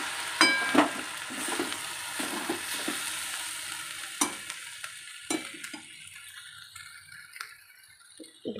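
A spoon scraping and stirring a thick jaggery mixture in a pan, with irregular clinks and soft sizzling that grow quieter and sparser toward the end; no one speaks.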